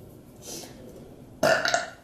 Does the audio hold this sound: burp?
yes